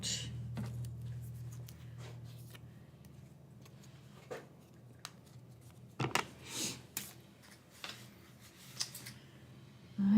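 Scissors trimming paper craft pieces at a desk, a handful of short crisp snips and rustles spread over a quiet background with a low hum early on.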